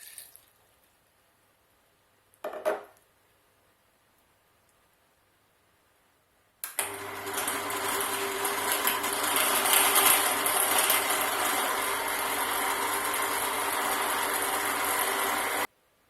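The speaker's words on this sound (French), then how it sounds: "je vais commencer par mettre les pommes dans le blender avec l'eau" A blender switches on and runs steadily, mixing apples with water for a honey and pollen smoothie. The loud, even whir lasts about nine seconds after a near-silent start broken by a couple of brief knocks.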